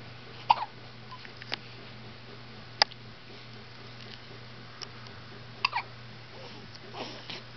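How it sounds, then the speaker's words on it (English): A baby girl's hiccups come as a few isolated, sharp catches spaced a second or more apart, close by against soft background hum, with no one speaking. "Yeah, she got the hiccups."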